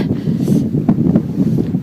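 Strong gusty wind batters the microphone beside a high-altitude lake at over 4,000 metres, a loud buffeting rumble that pulses irregularly throughout.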